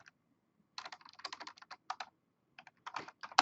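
Close typing on a computer keyboard while entering network device configuration commands, an irregular run of quick crisp key clicks in short bursts separated by brief pauses.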